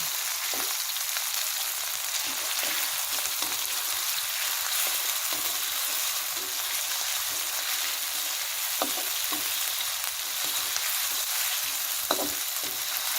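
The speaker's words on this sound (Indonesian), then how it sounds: "Kita tumis sampai bumbu harum." Spices stir-fried in a pan for a vegetable and meatball stir-fry give a steady, dense sizzle throughout, with occasional sharper crackles and spatula scrapes, close and alone without any talk.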